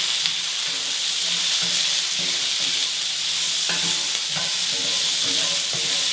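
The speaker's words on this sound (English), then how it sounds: "Stir that up." Green beans and other vegetables sizzle in a frying pan after a sprinkle of salt, with a constant hiss of frying and repeated scrapes and clacks of stirring up close, no voices.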